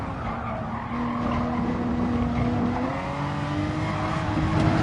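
Tyres skid and squeal in a car racing video game as another car makes contact, with a steady, loud engine and tyre roar running unbroken through the whole stretch and no talking.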